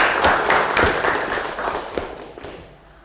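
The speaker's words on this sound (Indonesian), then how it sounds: "Tepuk tangannya anak-anak" A group of children in a classroom clap together in a short burst that fades out toward the end, fairly close and loud.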